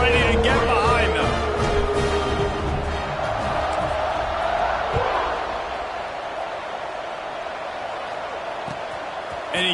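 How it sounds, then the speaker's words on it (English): A football stadium crowd roars and cheers steadily just before kickoff, a dense, loud wash of voices that eases slightly partway through, with a commentator speaking over it. "They're set to kick it off, and this crowd now ready to get behind them."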